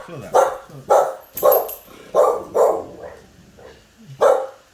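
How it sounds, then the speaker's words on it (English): An angry dog barks repeatedly and sharply up close, in an uneven string of about seven or eight barks with short gaps between them. "Show that angry dog."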